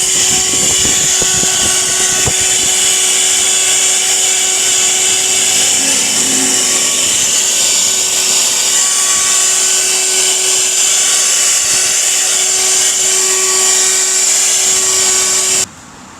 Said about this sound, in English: Lidl vacuum cleaner, take 1.